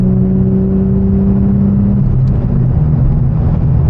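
Nissan Altima car driving past, a steady close engine drone with a low rumble that dips slightly midway, no voices.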